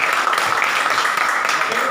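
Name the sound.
audience applause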